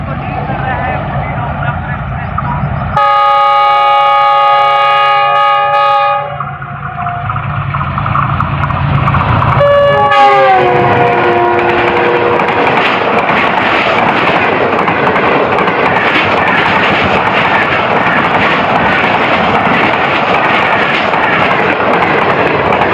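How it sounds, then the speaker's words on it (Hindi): Express train approaching and passing at close range, its loud horn sounding in two sustained multi-tone blasts, then giving way to a steady, heavy roar of wheels and carriages rushing past. "सामने से 40 डॉन जाफर एक्सप्रेस आ रही है"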